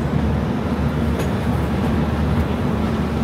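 A passenger train pulls away from Jatinga Lampur after a second engine is attached, with a steady low rumble and rolling clatter of rail wheels filling the interior, continuous and fairly loud.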